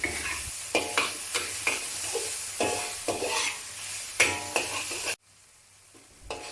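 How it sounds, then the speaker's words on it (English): Chicken stir-fried with garlic in a hot pan for Thai rad na rice noodles, a continuous loud sizzle broken by regular scraping strokes of the spatula, ending in a brief near-silence before stirring resumes; no talking. "continue stir frying until it turns golden slightly"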